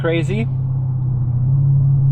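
A voice speaks briefly at the start, then the 5.5-litre naturally aspirated V8 of a Mercedes-Benz E500 Coupe idles in a steady, low, throaty drone that stays even to the end.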